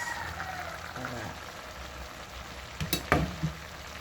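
Cassava leaves tossed into a hot pan sizzle steadily, with stirring clatters and a few sharp scrapes of utensil against the pan near the end, close up.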